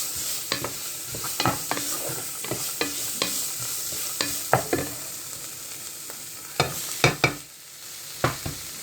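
Green pepper, carrot and other vegetables for spaghetti bolognese sizzle in a pan while a utensil stirs them, a steady fry hiss punctuated by repeated scraping knocks at an uneven rhythm, close by with no talk.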